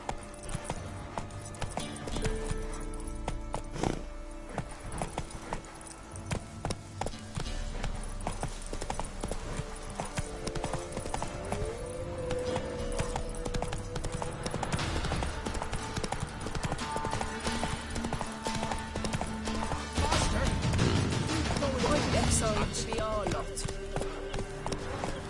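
Roach the horse gallops in The Witcher 3 on PS5, steady hoof clip-clop running under game music and effects, with a spoken voice urging the horse on.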